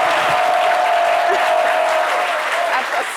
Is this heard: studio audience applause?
yes